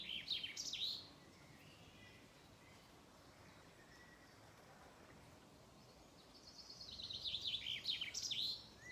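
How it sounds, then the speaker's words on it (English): A bird sings bright, high trilling phrases at the start and again near the end, separated by a quiet stretch of faint background murmur from a stream. "almost completely drowned out by the bird's song"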